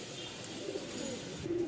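Racing pigeons at a pigeon market in Dhaka give soft, low cooing in short, close calls over a steady murmur of background noise, with no clear talk.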